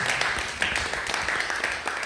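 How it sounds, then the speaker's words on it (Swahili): Audience clapping hands together at a church meeting, a steady dense patter of applause filling the room throughout. "Pigeni makofi."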